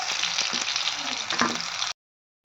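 Bora fritters hiss in hot frying oil with a steady, dense sizzle close up, running for about two seconds before cutting off abruptly.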